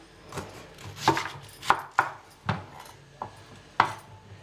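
A large knife chops through elephant foot yam on a board, giving sharp, distinct thuds at an uneven pace, about seven cuts close by with short gaps of quiet between them.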